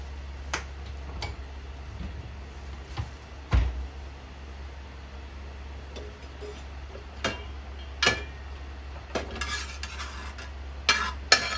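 Tofu and egg stir-fried in oil in a pan, soft sizzling under sharp, irregular scrapes and clinks of a utensil against the pan, close and with no talking.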